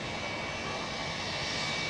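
An airliner taxis at Zurich Airport during rush hour, its engines giving a steady loud roar and whine that holds evenly for two seconds.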